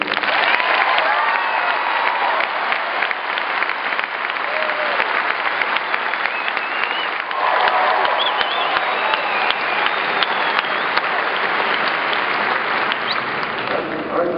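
Audience at BYU applauds loudly and continuously to welcome Senator Orrin Hatch and Mark Zuckerberg, a dense, even wash of clapping with crowd murmur that holds for the whole stretch.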